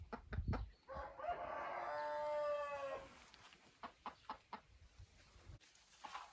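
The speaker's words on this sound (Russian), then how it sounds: "Вот этот петушок маран." A Marans rooster, one that was badly beaten and set apart from the flock, crows once in a long drawn-out call, then clucks in a string of short clucks, faint and somewhat distant.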